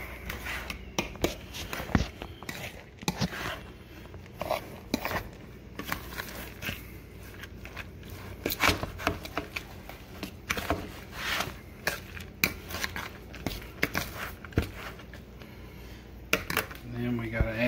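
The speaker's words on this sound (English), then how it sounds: "Just kind of mix that up a little bit." Cauliflower pizza ingredients being mixed in a bowl, a scattered series of soft scrapes, clinks and crunchy clicks at close range, with a person talking intermittently.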